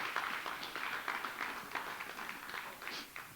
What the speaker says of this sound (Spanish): Le demos ese aplauso, hermanos.